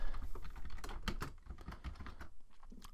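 Text is typed on a computer keyboard in a fast, uneven run of close, crisp key clicks with a few louder strikes, continuing throughout without talk.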